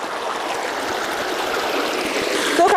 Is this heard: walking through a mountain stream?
yes